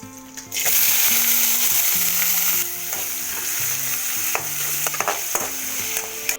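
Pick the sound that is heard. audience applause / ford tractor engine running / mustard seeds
mustard seeds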